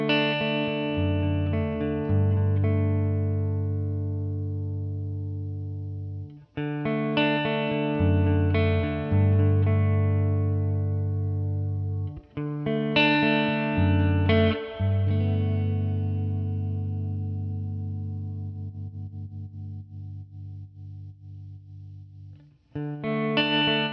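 An electric guitar run through a UA pedal plugin on its Shag Carpet preset, with chorus-like modulation and light grit. Chords are strummed in bursts and left to ring and decay, with short gaps between phrases.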